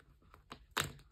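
Album packaging for a K-pop collection is torn open, with a few faint crinkles leading into one sharp, loud rip near the end of the short burst.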